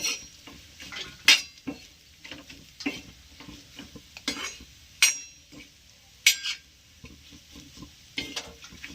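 Pieces of bhakri stir-fried in oil in a pan, with repeated clinks and scrapes of a spoon against the pan over a soft, steady sizzle.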